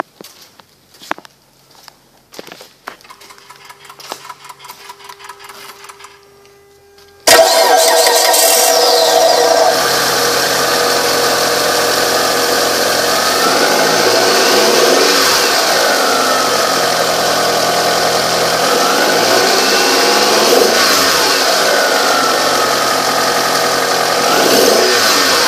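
A 2006 Mitsubishi Eclipse GS: after several seconds of quiet clicks and light handling noises, the engine abruptly fires up and runs loudly, with repeated rising and falling revs over a steady idle.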